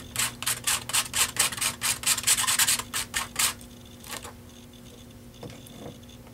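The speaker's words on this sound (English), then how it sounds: "Just going to scrape some of that up on my spatula, kind of place my stencils down." A spatula scrapes and spreads paste over stencils in an art journal, giving a run of quick, rhythmic rubbing strokes up close, followed by a few fainter scrapes.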